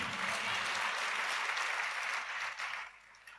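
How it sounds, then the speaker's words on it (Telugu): A church audience gives sustained applause, many hands clapping in a dense, even roar that tapers off toward the end. "ఏమన్నా అర్థమై చప్పట్లు కొడుతున్నారా, లేకపోతే నా ఆనందం కోసం కొడుతున్నారా?"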